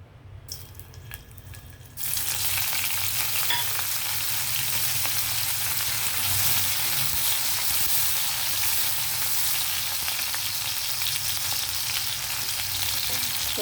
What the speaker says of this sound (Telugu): ఆయిల్లో ఫ్రై చేసి తీసేయాలి ఎండ్రాయిలు. ఆయిల్ హీట్ అయ్యాక మనం ఎండ్రాయిలు వేద్దాం.